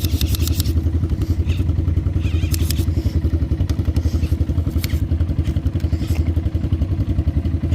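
A pit bike engine idles close by in a steady, loud, rapid low putter with light mechanical clatter, running continuously throughout.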